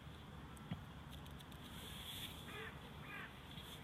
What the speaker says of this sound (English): just the sound of the crow in a tree